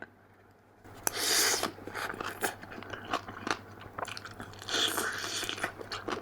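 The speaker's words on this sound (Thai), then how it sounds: "ตำกุ้งสดแซ่บๆ ครับ ไปครับคำโตๆ" After a quiet start, someone bites and chews spicy fresh shrimp papaya salad with fermented fish up close, producing wet crunches and repeated chewing sounds in irregular bursts with no talking.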